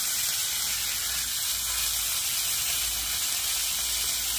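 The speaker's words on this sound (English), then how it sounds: "Cooked on a hot tent stove" A big half-kilo British beef steak sizzles on a hot tent stove, a steady, close, broadband hiss of frying fat that holds evenly throughout without talk.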